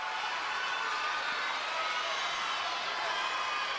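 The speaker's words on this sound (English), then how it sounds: "This crowd is really into it today." A large crowd cheers steadily in a gymnastics arena at the Big Ten women's championships, a constant, distant roar of many voices with no distinct breaks.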